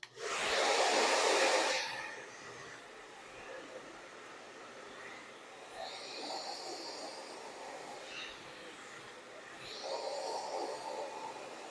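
A hair dryer blows hard in a salon during a brushing and blow-dry finish, loud at first, then dropping to a softer, uneven hum with brief surges as it moves around the head.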